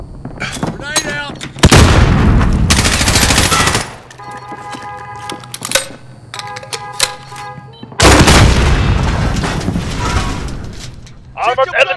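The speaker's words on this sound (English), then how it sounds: "Grenade out!" Grenade blasts and rapid gunfire from a Call of Duty Modern Warfare Spec Ops battle, with two loud sustained bursts of explosions and shooting separated by quieter stretches of scattered shots, and game voices calling out between them.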